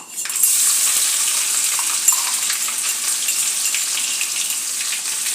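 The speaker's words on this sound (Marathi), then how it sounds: "आले लसूण चांगले परतून घेऊया" Ginger and garlic sizzle steadily in hot oil after mustard seeds, a close, continuous crackling hiss with an occasional stir.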